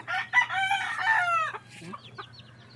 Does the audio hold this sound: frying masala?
no